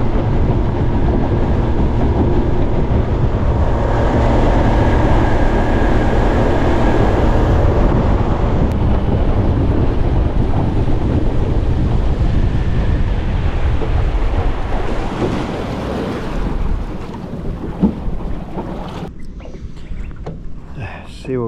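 Strong wind buffets a beach by mangroves, a loud steady roar rushing across the microphone for the whole stretch, easing slightly near the end with a few gusty bumps.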